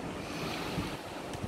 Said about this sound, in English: That's the sound of the wave hitting the wall of the ship.